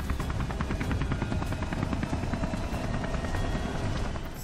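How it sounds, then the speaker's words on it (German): Helicopter rotor in the video game Beyond Two Souls, a steady loud chopping thrum with rhythmic blade pulses filling the whole stretch, close and continuous, with no talk over it. "jetzt ist der Heli fällig."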